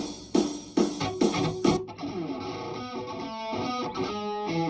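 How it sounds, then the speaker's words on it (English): Distorted electric guitar played through a Vox AC15 amplifier, heard on its own: a few sharp strummed chords open it, then sustained ringing notes carry on steadily at a moderate level with no other sounds. "I played my guitar through my AC-15 in the other room"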